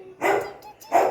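A small puppy gives two short, close barks about three quarters of a second apart, each a bright yelp, in an otherwise quiet room.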